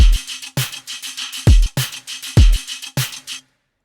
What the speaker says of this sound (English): Now the snare sample dry sounds like this.